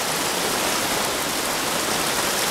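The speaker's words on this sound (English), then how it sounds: "There goes the river on down." A river rushes downstream after heavy rain, producing a steady, even roar of flowing water that holds constant throughout with no voices.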